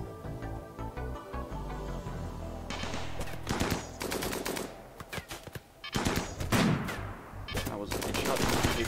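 Rapid bursts of turret gunfire in the colony-building game Rimworld, loud dense volleys cracking in clusters over a busy game soundtrack, with a short lull midway before firing resumes.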